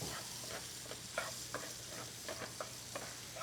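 Ground beef browning in a hot pan at medium-high heat, with a steady sizzle broken by a series of scraping, stirring strokes as the meat is broken apart; no one talks.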